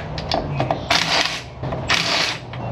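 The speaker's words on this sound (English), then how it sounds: "But first I'll take these two bolts out." A ratchet removes two bolts from a shifter cable bracket in a Ford E350 van's transmission area during shop repair work. Close-up bursts of rapid clicking alternate with short pauses.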